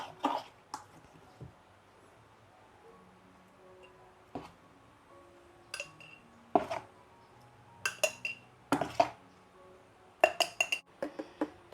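Chili sauce is spooned into a glass jar in a home kitchen, giving sparse, quiet clinks and taps of a utensil against the glass. They come in scattered clusters with near-silence between them.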